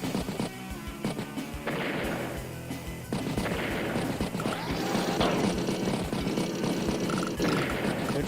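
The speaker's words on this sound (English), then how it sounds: "Battlecopter strikes tank." Battlecopter strike on a tank in the turn-based strategy game Advance Wars by Web: dense, continuous game combat sound with rotor-like whirring and rattling gunfire bursts, fairly loud throughout, without any talking.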